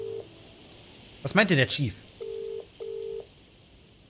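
A phone box in a video game gives short, evenly spaced dialing tones, three brief beeps, with someone speaking briefly between them.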